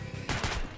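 Gunshots in Metro: Last Light, a short burst of fire from a gun with a dense, noisy crack that sits fairly quiet in the mix and fades quickly.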